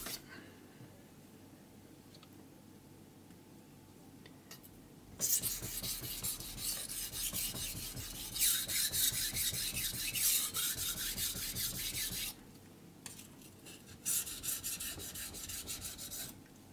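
A VG10 steel knife is honed on an Atago #1000 whetstone: a quiet stretch, then rhythmic scraping strokes in two bursts separated by a short pause, close and gritty.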